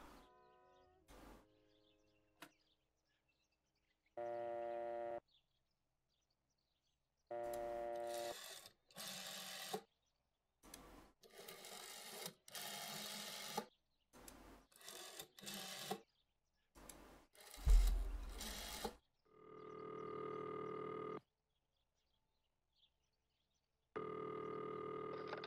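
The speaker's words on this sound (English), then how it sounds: "we can use the phone to make phone calls, so can we call this number that he put on there?" Phone handset in the video game Martha Is Dead, with a series of short dial tones and beeps, then several long repeated ringing bursts separated by pauses, fairly loud and alone with no talk.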